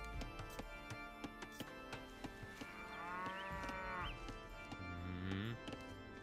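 Cattle lowing in the real-time strategy game Age of Empires 2, a long drawn moo followed by a second shorter one, heard over steady game music and scattered clicks and taps.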